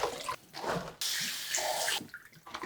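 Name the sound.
rinsing napa cabbage under running tap water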